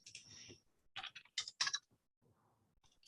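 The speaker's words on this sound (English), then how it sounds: "Let's type it in." Numbers being typed on a computer keyboard, with quick clusters of crisp key clicks in short bursts and brief pauses between them, close and quiet with no talking.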